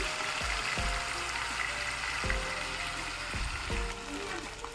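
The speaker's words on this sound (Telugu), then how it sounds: "ఇప్పుడు అటువైపు కూడా బాగా వేగాలి" Green masala fish pieces frying in hot oil, a steady broadband sizzle running throughout, with low thumps as the pieces are shifted in the pan.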